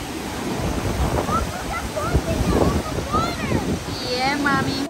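Sea waves washing onto the Bulgarian coast in summer, a steady surf wash with wind noise, heard near, while people talk and a voice chimes in over it.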